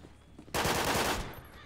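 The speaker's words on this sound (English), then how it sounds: "Shots fired." A short, loud burst of gunshots in GTA V FiveM roleplay breaks in abruptly after a quiet moment and fades within about a second.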